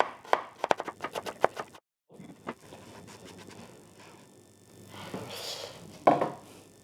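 A knife dices carrot on a cutting board for a lentil and sausage stew, a quick run of sharp, close chops, then a pause and scattered softer taps with a few louder cuts near the end.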